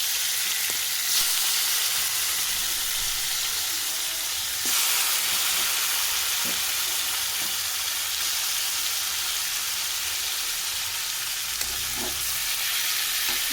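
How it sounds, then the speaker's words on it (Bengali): Marinated chicken pieces fry in hot oil in a kadai, giving a steady, loud sizzle that runs throughout with occasional stirring scrapes and no voices. "দেখুন এখানে ভালোভাবে ভাজা ভাজা করে নিচ্ছি"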